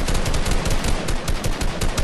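Rapid automatic gunfire from a Fortnite match, a dense, loud, continuous burst of shots running the whole stretch with no speech over it.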